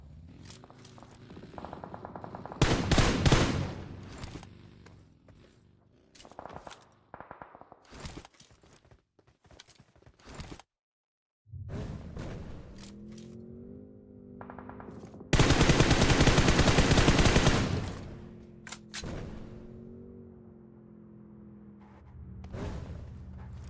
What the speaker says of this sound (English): Gil trying to get some shots in. Decides to take the tire out on the vehicle